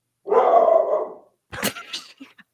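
A dog gives one drawn-out bark or growl-like howl, fairly loud and close, followed by a couple of shorter, sharper yelps and barks that trail off.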